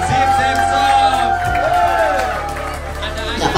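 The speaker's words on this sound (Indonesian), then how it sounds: "Kita tepuk tangan pemenang Zip-Zip-Zop." A seated crowd at an Indonesian community event applauds and cheers the winners of a Zip-Zip-Zop game, a steady wash of clapping and chatter throughout, with voices mixed in.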